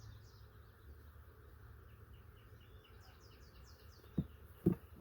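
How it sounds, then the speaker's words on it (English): Bees from a dead-out hive drone faintly and steadily while the top is open, with soft high chirps above the hum and two brief knocks near the end. "Not as many bees up on the top on this one."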